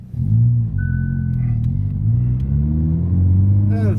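Toyan V8 model engine fitted in a Camaro build revs in smooth rising and falling sweeps, a steady close mechanical drone with a brief whine partway through and a short rattle near the end.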